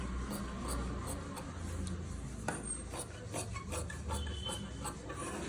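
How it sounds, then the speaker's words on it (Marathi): Scissors cutting away extra cloth fabric, heard as close, steady rasping snips and rubbing strokes with a few sharper cuts, fairly quiet and with no talk. "आता हे एक्स्ट्राचं कापड मी कापून टाकते."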